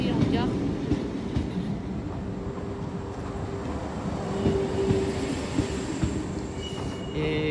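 A tagged 2NGR regional train pulls into Lille Flandres station, a steady low rolling rumble of wheels and carriages with faint squeals and clatter throughout, heard close and continuous with no voices.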